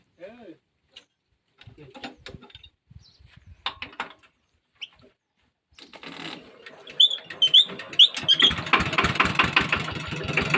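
After a few quiet clicks and brief voices, a farm tractor engine cranks and starts, then settles into a loud, rough, chugging run.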